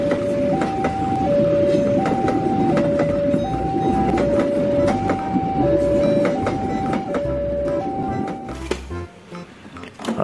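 A KRL commuter electric train rolls past at close range with a heavy rumble and steady wheel clatter, while a two-note tone alternates regularly over it throughout before the noise drops away near the end.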